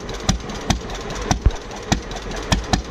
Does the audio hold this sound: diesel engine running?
yes